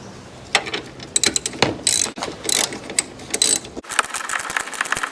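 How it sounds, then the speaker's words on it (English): A ratchet tightening the battery hold-down nut on a car gives rapid bursts of close, crisp clicking in short uneven strokes with brief pauses between them. "you'll be able to tighten this nut right here"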